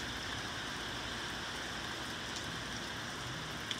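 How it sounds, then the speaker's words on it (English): Steady rain pours down outside, a dense even hiss of drops on surfaces with no talk, holding constant throughout and ending with one small sharp tap. "Oh, look at this rain. It's coming down"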